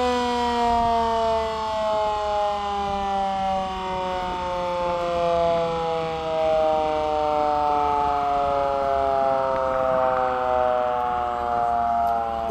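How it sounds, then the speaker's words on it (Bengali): A cruise ship on the Ganges near Kolkata sounds its siren to warn small boats: one long, loud, steady horn blast with a rich harmonic tone that drifts slightly lower in pitch and holds for over twelve seconds. "ক্রুজ থেকে আর কি সাইরেন দেওয়া হচ্ছে।"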